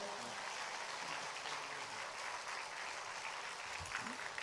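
A church congregation applauds at an early-morning prayer service to welcome a missionary from South Africa, a dense, steady wash of clapping from many hands, distant and faint.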